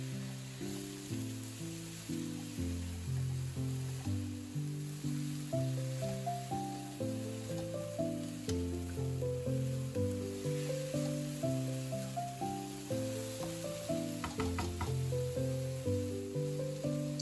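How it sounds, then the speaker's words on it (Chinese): King oyster mushrooms stir-fried with garlic, scallion and chili hiss in a steady sizzle beneath louder background music, with faint scraping as the pieces are tossed. "香气出来后，把所有材料拌炒均匀。"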